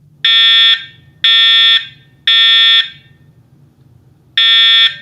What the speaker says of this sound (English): Apparently, this is a test of the fire alarm system